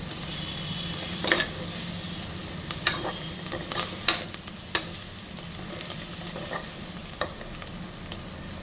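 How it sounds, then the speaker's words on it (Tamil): A handful of coriander leaves and mint sautéing in a pan for white chicken gravy, a steady close sizzle punctuated by sharp spatula scrapes and clicks at uneven intervals, no talk. "1 கைப்பிடி மல்லித்தழை இதெல்லாம் போட்டு நல்லா வதங்க விடணும்"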